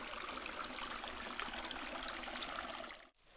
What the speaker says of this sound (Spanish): Es por donde baja el río.